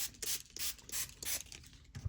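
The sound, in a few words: spraying water from a spray bottle onto a board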